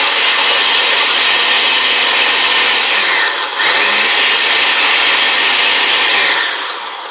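A blender whirs continuously while blending a berry chocolate protein shake, a loud, steady motor drone with a brief dip midway, heard alone without talk.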